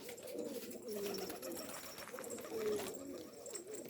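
Wild pigeon cooing in a loft among other pigeons, a soft repeated coo in low rhythmic phrases, moderately close and steady, with faint background noise and no talk.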